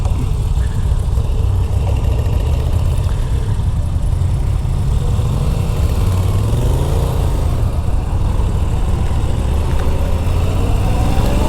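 A Moto Guzzi V7 Stone motorcycle engine runs steadily on a demo ride, a low throbbing drone with mild wind noise and a brief rising pitch sweep midway.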